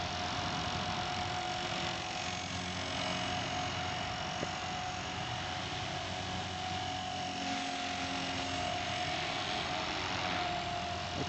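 A Walkera V400D02 RC helicopter with a direct-drive brushless tail spins and hovers outdoors over a yard, giving off a steady whine and hum that holds level throughout without breaks.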